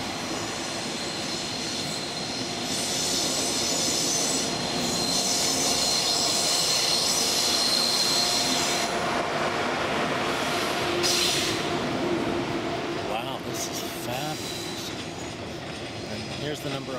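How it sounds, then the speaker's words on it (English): Trains roll through a busy rail area in Basel, Switzerland, their wheels grinding and squealing in a loud, continuous wash of metallic noise, with brief higher screeches near the end. "So there is a lot of train activity."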